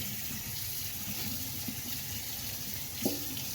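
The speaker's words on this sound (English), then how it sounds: "I'm just going to run the tap water over it." Tap water runs steadily over a leather bag being broken in at a sink, a close continuous splashing stream with a brief louder splash near the end and no talk.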